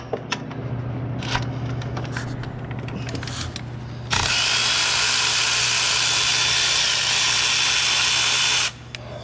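A power tool, likely a drill or impact driver, tightens bolts on a GM 3800 intake manifold on a 2007 Buick LaCrosse. Short buzzy bursts over a low hum lead into one loud, steady run of about four and a half seconds.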